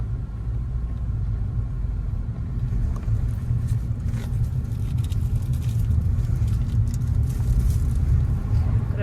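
A car drives along a driving test route and picks up speed, its engine a steady low rumble with road noise building slightly, while a voice talks over it.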